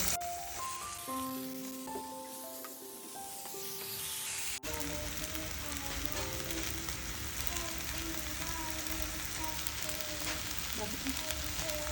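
Noodles drop into a hot pan and fry with a steady, close hiss and crackle, while gentle music plays throughout the scene.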